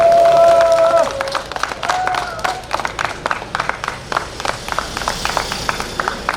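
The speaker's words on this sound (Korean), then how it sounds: "여기 계신 모든 김기태에게 박수 한번 주십시오" A crowd at an outdoor election campaign rally in Hamyang claps, starting scattered after a voice and building into uneven bursts of hand claps with some cheering, fairly close and loud.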